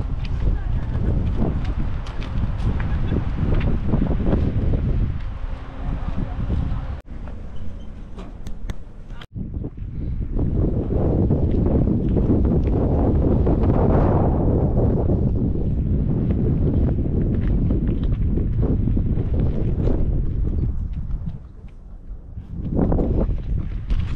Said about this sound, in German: Windig, also der Wind, der peitscht hier einen um die Ohren